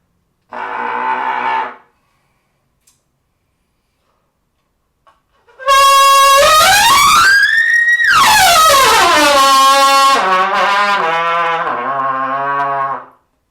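A short honk on a brass instrument, then after a pause a long, loud blast that bends upward and slides down, followed by lower sustained notes.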